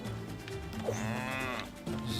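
A cow in the video game Town of Zoz lets out a long, drawn-out moo, clear and moderately loud against a steady low background hum.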